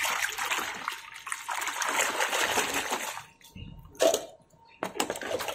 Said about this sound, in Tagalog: Hinuhugasan ko sila sa tubig na may sabon